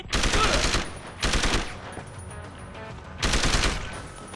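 Gun bursts in Deus Ex: Human Revolution, three loud close volleys of rapid automatic fire with short quiet gaps between them, no talking.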